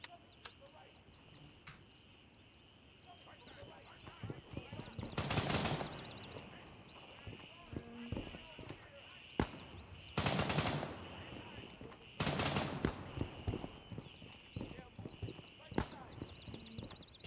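Automatic gunfire rattles out in three sustained bursts during a Gray Zone Warfare firefight, loud and dense, separated by quieter ambient game noise with scattered single shots.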